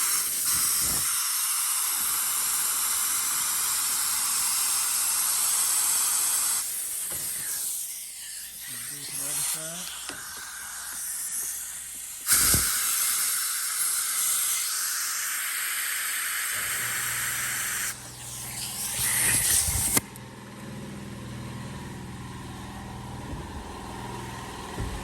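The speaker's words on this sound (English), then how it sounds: "now that the air compressor turned off" Compressed air hisses steadily as it is blown through a clogged car sunroof drain, loud and close, with the tone shifting in long stretches and a few abrupt breaks along the way.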